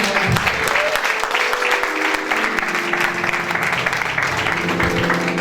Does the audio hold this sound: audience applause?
yes